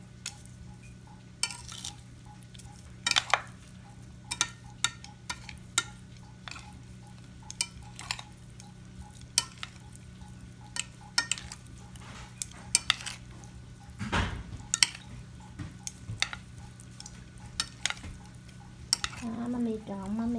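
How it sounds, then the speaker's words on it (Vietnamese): Pork belly being stirred and mixed with garlic, sugar, MSG and chili for a Vietnamese braised dish, with scattered utensil clinks and scraping against a bowl over a steady low hum, no talking. "Mami trộn, mami ớp cho nó thấm sơ sơ thôi."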